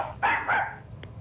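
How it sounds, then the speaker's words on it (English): A dog barks twice in quick succession over a phone line during a TV broadcast, sharp and slightly muffled, followed by a faint short yip. "Is that a dog that just answered the phone?"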